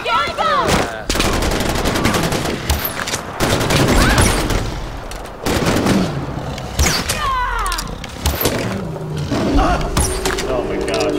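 Rapid gunfire aimed at tigers in the video game Far Cry 4, loud bursts and single shots in an uneven rhythm, with animal roars and excited voices talking over the shooting.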